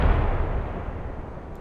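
Artillery in the Squad Galactic Contention mod lands as a single loud, close boom that rolls off into a long fading rumble.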